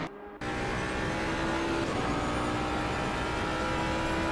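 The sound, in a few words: Jaguar race car engine at Monza in racing video game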